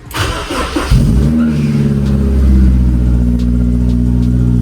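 Honda car engine cranking and catching, then holding a loud, steady rev with a low droning hum close by for several seconds.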